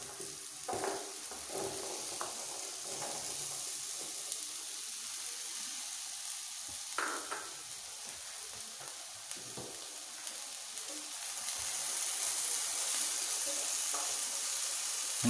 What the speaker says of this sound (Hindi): पैन में मैंने ऑयल को डालकर गरम कर लिया है। इसमें आलू शामिल करते हैं।